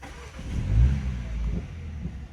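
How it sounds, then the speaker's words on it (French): A BMW 128ti with 265 horsepower starts up, a short low rumble swelling to a brief rev before settling into a steady idle, heard close and without talk. "On va démarrer le véhicule."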